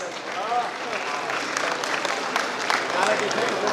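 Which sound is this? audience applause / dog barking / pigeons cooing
audience applause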